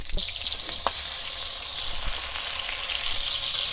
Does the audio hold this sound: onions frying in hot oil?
yes